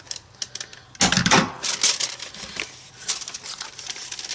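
A handheld paper punch working through sheets of paper for a craft page: sharp, rapid clicks and crunchy snaps come close together in a close burst, then taper into scattered taps.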